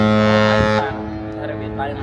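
A ship's horn blasts across Sydney harbour, a loud deep sustained tone that cuts off partway, leaving a faint echoing tail and background murmur.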